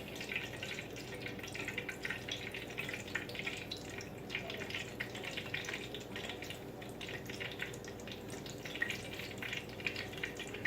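Shrimp sizzling in hot frying oil for coconut shrimp tacos, a steady close crackle and spatter that stays even throughout.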